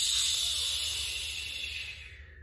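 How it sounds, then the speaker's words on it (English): A long, steady whooshing exhale from 4-7-8 breathing, heard up close and alone as a breathy hiss that slowly fades over about two seconds. "then you exhale with a whooshing sound for a count of eight."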